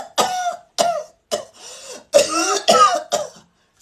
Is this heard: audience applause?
no